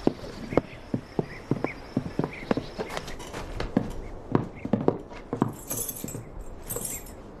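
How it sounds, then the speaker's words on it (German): Horses' hooves clip-clop on a street in a western, a run of sharp, uneven hoof strikes close by and fairly loud, with faint jingling of tack. "Da stehen ein paar Pferde am Ende der Straße."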